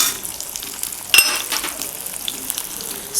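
Sliced onion frying in hot oil in a kadhai, a steady close sizzle with a sharper crackle burst near the middle, no voices.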